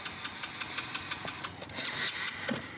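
An Alpha 100cc motorcycle engine with a fuel problem turns over and runs rough in repeated quick bursts, a rapid, uneven putter at close range with no talk over it.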